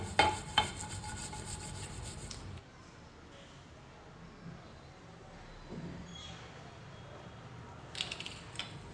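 Mint, curry leaves, garlic, ginger and green chilli dry-roasting in a pan, with faint rasping stirs and a low crackle, busier at the start and then settling into a quiet steady rustle.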